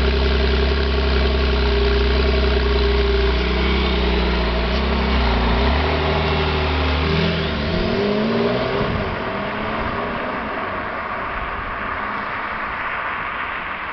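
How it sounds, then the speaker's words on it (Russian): A Porsche 911 with a flat-six engine idles with a deep steady burble, then revs and pulls away, its note rising and thinning as the car moves off into the distance. "Мы услышим его замечательный звук оппозитного шестицилиндрового двигателя."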